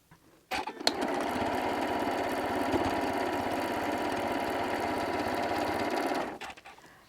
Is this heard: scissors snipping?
no